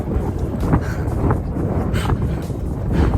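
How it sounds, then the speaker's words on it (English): Steady wind blows at a seaside caravan, roaring and buffeting the microphone in continuous gusts with a low rumble underneath. "Oh, it's a little breezy."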